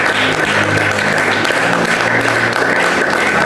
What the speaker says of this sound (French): Toi aussi qui est là, j'aimerais qu'on acclame aussi pour toi.